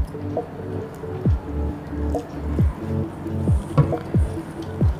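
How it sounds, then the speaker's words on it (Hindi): Water being added and dough for shakkar para, mixed with cumin and ginger paste, kneaded by hand, giving close wet squishing, slapping and dripping sounds in irregular bursts, with no talk. "अब इसको पानी डाल के गूंदेंगे।"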